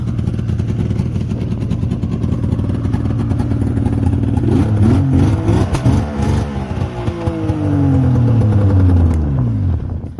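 The SX Venom's engine idles with a loud, rough, close rumble, then revs in surges that rise and fall in pitch before settling back.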